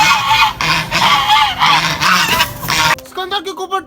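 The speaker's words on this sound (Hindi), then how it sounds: "सिकंदर के ऊपर टर्की ने हमला कर दिया, चेक करें।" A turkey attacks while poultry are fed vegetables and millet, gobbling in loud, rapid pulsing bursts close by, then shifting to shorter, choppier calls near the end.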